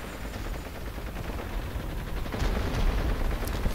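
Dense, continuous battlefield gunfire from Tiger I tanks and a cruiser in the strategy game Total War: 1942, a steady crackling barrage that grows slightly louder and heavier toward the end, with no voices.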